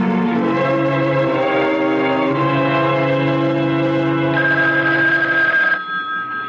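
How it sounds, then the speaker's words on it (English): A telephone rings insistently in a 1970s radio drama, a sustained electric bell tone that carries for several seconds, then cuts off abruptly, leaving a quiet room. "Wake up, the phone."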